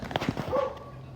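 A neighbor's dog gives a few quick barks and yips, fairly close, in a short burst.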